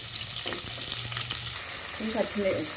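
Sliced onions with green chillies and curry leaves sizzle steadily in hot oil in a pan, a continuous close frying hiss with brief stirring scrapes and no talk.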